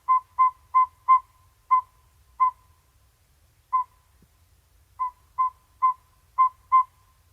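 A series of clear, evenly pitched toots from a saw-whet owl, repeated in quick runs with a pause in the middle, against quiet background.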